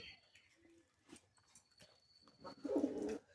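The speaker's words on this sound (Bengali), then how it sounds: "অমন করে না কবুতর উড়ে চলে যাবে" Pigeons on a farm make a low, close coo near the end of a quiet stretch, while a person speaks softly.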